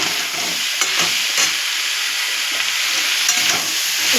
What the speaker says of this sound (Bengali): আমার যে সবজিটা একটু ভাজা ভাজা হয়ে গেছে, এটাকে আমরা আরেকটু নাড়াচাড়া দিতে থাকবো, যাতে আরেকটু ভাজা হয়ে যায় সবজিটা